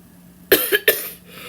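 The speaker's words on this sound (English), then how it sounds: "because I'm coughing, it did whatever" A person recovering from a pulmonary embolism coughs three times in quick succession, loud and close, each cough sharp and rasping, with quiet afterward and no speech.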